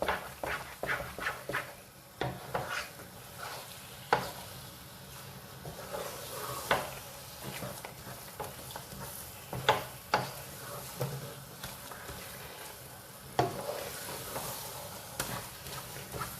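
Halwa cooking in a pan and being stirred, with soft scraping strokes and irregular clinks of a spoon against the pan over a low sizzle, moderately close and fairly quiet throughout.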